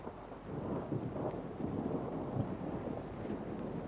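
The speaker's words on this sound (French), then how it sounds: "Ah, l'orage s'apaise." Thunder from a thunderstorm forms a low, continuous rumble, with a rain-like hiss steady throughout. It is moderately loud and has no voices.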